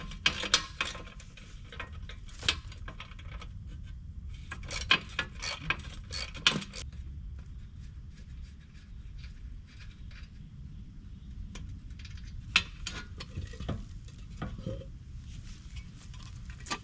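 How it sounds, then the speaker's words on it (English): Bolts come off a boat trailer fender with short bursts of ratcheting clicks and metallic clatter, separated by quieter pauses, close by outdoors. "So first I'm gonna do is take those 2 bolts out and remove that fender."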